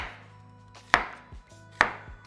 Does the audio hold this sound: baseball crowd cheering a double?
no